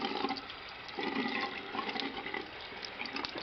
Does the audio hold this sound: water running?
yes